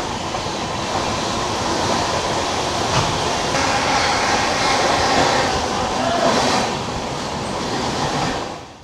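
An express train on the Howrah–Raiganj route runs at speed near Sodepur, with a dense, steady roar of wheels on rails and a carriage rumble from inside the coach. Faint voices can be heard under the noise.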